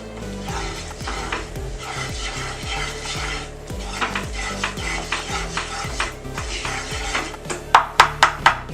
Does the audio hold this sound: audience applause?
no